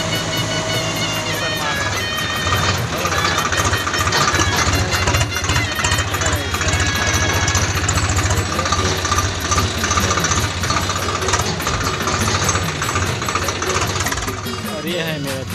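A 735 XT side-gear tractor engine running loudly nearby during murram hauling, a continuous knocking diesel chug with vibration that stays steady throughout, and no clear voices over it.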